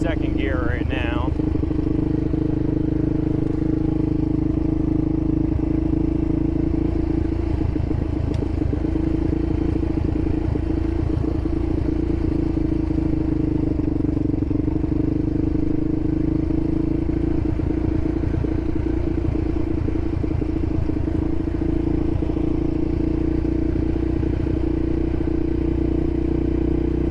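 An ATV engine in second gear climbs a steep mountain road, a steady low drone with a strong harmonic hum and light clatter running throughout, up close and fairly loud.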